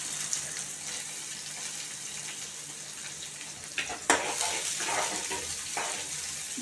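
Chopped onions frying in an open pan for upma, a steady close sizzle with a few sharper scrapes and clatters from stirring partway through, no voices.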